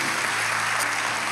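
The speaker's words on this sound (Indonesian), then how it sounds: "Tepuk tangannya yang lebih meriah." A church congregation applauds during a sermon, a thick, even burst of clapping that fills the room at moderate loudness, without speech on top.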